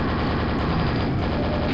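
Continuous, dense roar of explosions in the 1996 PC shooter Quake, loud and close, with rapid crackling bursts blending into one unbroken blast with no pauses.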